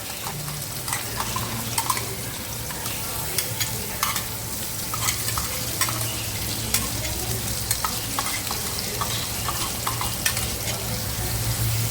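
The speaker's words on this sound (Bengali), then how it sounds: "আমার আলুটা ভালো করে ভাজা হয়ে গেছে" Potatoes fry in a pan with a continuous close sizzle, punctuated by repeated scraping and tapping of a spatula as they are turned.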